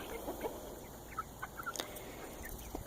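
Chickens in a yard give soft, scattered clucks and short calls, faint and intermittent against quiet outdoor background noise.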